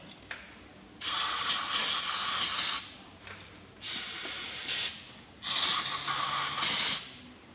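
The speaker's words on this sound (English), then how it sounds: "We have to clean this hole out, so we'll use a bit of brake cleaner." Brake cleaner sprays in three long hissing bursts into a hole in a Massey Ferguson MF135 tractor's right-hand trumpet housing, each blast loud and close with short quiet gaps between.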